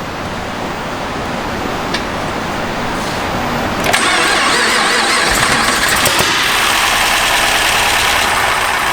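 Chevy SS with a supercharged LSA engine, running with a suspected miss after repair work, cranks and fires up at close range, settling into a loud steady roar with a rough idle.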